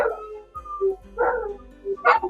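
A dog barks and yips indoors several times in quick, uneven bursts, fairly close, with soft whimpering tones between the barks and no talk over it.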